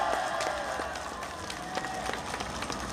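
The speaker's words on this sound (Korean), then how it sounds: "이런 박수 한번 쳐주세요" A dense crowd applauds at a rally in Gwanghwamun Square, Seoul: steady, thick clapping that fills the space, with scattered sharper claps and a voice faintly underneath.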